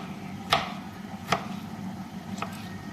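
Peeled tomatoes are chopped on a cutting board in a home kitchen, three distinct knife strikes spaced unevenly over a low steady background.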